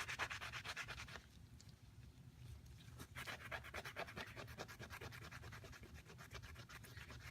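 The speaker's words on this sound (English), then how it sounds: "That's what it looks like before rubbing the rust off here." Steady rhythmic rubbing and scraping as rust is worked off a gun's metal surface treated with Ballistol lubricant, close and continuous with a brief lighter pause, no talking.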